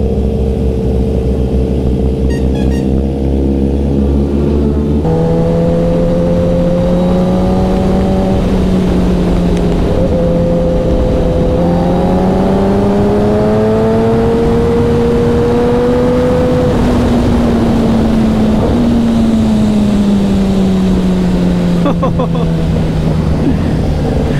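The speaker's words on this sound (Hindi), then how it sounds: "भाई बूमपट कैसे हुआ देखे, एक गियर शिफ्ट किए" A superbike engine roaring on a ride from Jharkhand to Bolpur, loud and close. After a gear shift the pitch drops and then climbs steadily again through sustained acceleration, with wind rush throughout.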